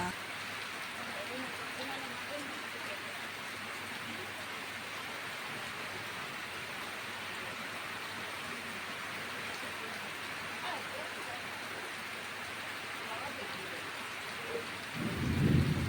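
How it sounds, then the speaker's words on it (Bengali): Heavy rain pours steadily outside in a continuous hiss, with low rumbles of thunder beneath it and a louder burst near the end. "বাইরে ঝমঝমিয়ে বৃষ্টি হচ্ছে"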